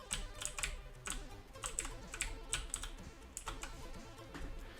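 Keys clack on a Commodore 64 keyboard in quick, irregular bursts of taps, close and fairly quiet, with short pauses between clusters and no talking.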